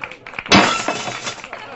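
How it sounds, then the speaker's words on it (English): Glass shatters inside a glass box, one sharp crash that breaks into a spray of tinkling shards, loud and close, with a faint voice before it. "It's for breaking windows, breaking TV sets, breaking just about anything made of glass."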